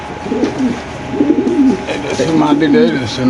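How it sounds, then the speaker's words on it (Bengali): Several domestic pigeons in a pigeon seller's shed coo steadily in low, rolling phrases, close and fairly loud, with a faint murmur of background voices. "আর একজোড়া কবুতর দিয়ে বাইরে কি কবুতর শেডেল"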